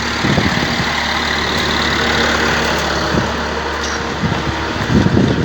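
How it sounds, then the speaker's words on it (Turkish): A tractor engine idles steadily at a Norwegian marina, a low continuous rumble close by, with a few clanks and knocks rising near the end. "Ayrıca traktörünü de çekiyor."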